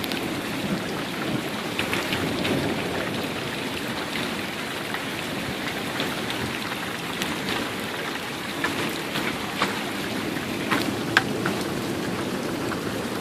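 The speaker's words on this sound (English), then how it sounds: "It's still hailing a little bit." Light hail and rain falling steadily outdoors during a thunderstorm, a dense even patter with scattered sharper ticks of hailstones striking surfaces and faint low rumbling underneath.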